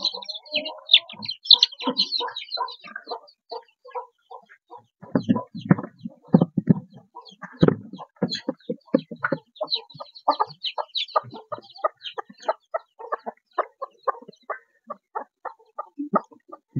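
Clucking chickens and the high peeping of young motherless chicks kept in a cardboard box in a kitchen garden, a steady busy mix of close chirps and throaty clucks with no talk.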